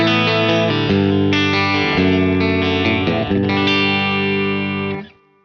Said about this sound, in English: So my clean tone sounds like this.